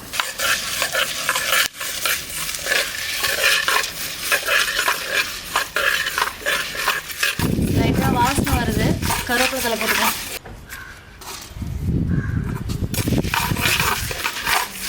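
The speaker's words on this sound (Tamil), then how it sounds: "ஃபஸ்ட்டு மல்லியும் வரமிளகாயும் போட்டுக்கலாம் இது கொஞ்சம் வறுபட்டதுக்கப்புறம் மற்றதெல்லாம் போட்டுக்கலாம்" Coriander seeds and dried red chillies dry-roasting in a pan, stirred steadily so the seeds rattle and scrape against the metal in dense bursts, loud and close, with brief talking mixed in.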